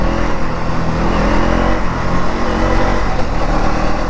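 A KTM Duke 390 Gen 3 motorcycle engine rides in low gear, a loud, steady, close-up drone with rushing wind noise throughout and no voices.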